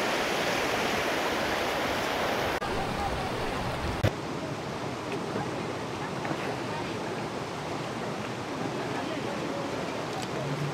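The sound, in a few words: river rapids rushing water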